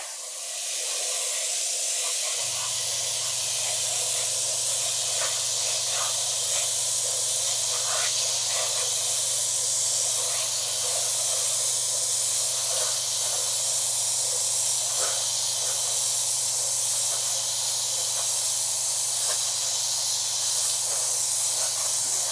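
Steady spray nozzle hissing for about twenty seconds as sealant is sprayed in passes over a 1/200 scale wooden model deck of RMS Titanic, with a constant low hum underneath and no talking.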